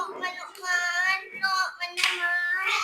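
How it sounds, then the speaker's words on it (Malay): A few children clap their hands in a classroom Quran recitation session, a brief patter of claps mixed with young voices. "tepuk tangan untuk Irish."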